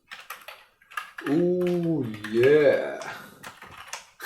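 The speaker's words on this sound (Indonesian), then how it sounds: "Aku ngetik nggak ngeliat keyboard ya" Typing on a wireless keyboard connected through Samsung DeX to a Samsung CrystalUHD TU8000 smart TV: quick soft key clicks at the start and end, with a sustained voiced sound and a brief spoken word in between.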